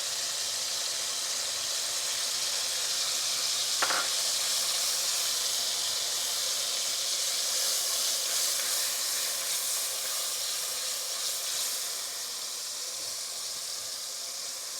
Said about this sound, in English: once we've fried out our ginger garlic paste along with the tomatoes for around 30 seconds